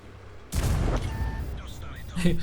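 The DBV-152 tank's gun fires in a video game, one sudden loud blast after brief quiet, its rumble rolling on and fading, followed by faint game sounds and a short voice.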